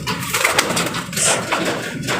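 Pet pigeons coo in soft, low repeated calls amid rustling and breezy wind noise outdoors, a few brief higher chirps scattered through, close to the listener with no voices.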